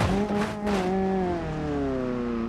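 A Ford Focus engine in BeamNG.drive revs and winds down through a damaged, punctured exhaust with a raspy, rattling tone, loud and close, holding a droning pitch that slowly falls.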